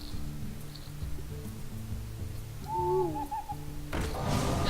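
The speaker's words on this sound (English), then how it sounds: "Owl." Owl hoot from a card video game (Hearthstone-style match), a short wavering two-note call rising over a steady background of game music, ending as a burst of noisy effects swells in.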